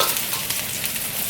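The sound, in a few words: garlic stir-frying in a wok for spicy cabbage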